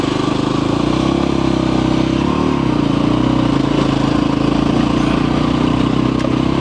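A Voge 300 Rally motorcycle runs off-road over rutted ground, its mid-pitched engine humming steadily and loud close by, with a slight rise in revs partway through.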